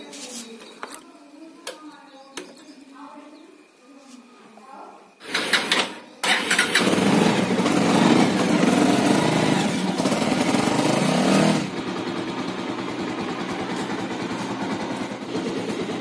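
Bajaj Avenger 220 motorcycle engine cranks and catches after someone talks, then runs loud and steady at a raised idle before settling to a slightly quieter rumble.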